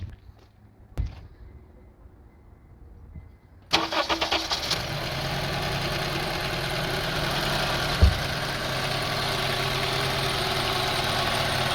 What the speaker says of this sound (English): until the engine starts doing like RPM get rough again